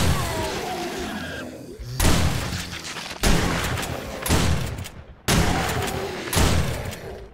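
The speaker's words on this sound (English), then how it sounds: "I love how loud this gun is" A gun in the 7 Days To Die video game fires about five loud, booming shots at irregular intervals, each with a sharp onset and a long decaying tail.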